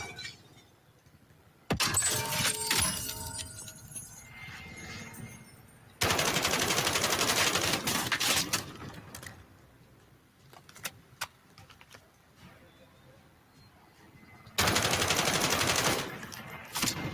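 An enemy fires at the player in a video game: long, loud bursts of rapid automatic gunfire sound in three main volleys, with scattered single shots between them over quiet background.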